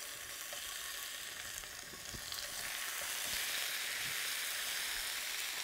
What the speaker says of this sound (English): pre-cook the meat to a rare stage by roasting, stewing, or browning it in a little bit of hot oil like I'm doing here